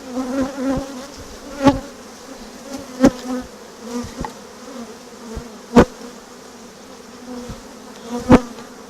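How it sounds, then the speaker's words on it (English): A dense swarm of honeybees buzzes loudly and continuously up close while being brushed off, punctuated by sharp knocks and thumps at irregular intervals. "brush the excess bees off of this"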